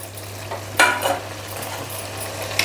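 Dried fish stirred into a thick curry gravy in a pan for a Telangana-style dried fish curry, giving a soft sizzle with a few louder scraping stirs, heard alone and close.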